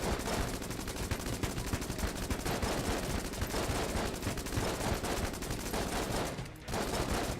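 A rapid-fire battery gun in Enter the Gungeon rattles off a dense, unbroken stream of shots that hardly pauses for over seven seconds. It stays loud and constant, with only a brief dip near the end.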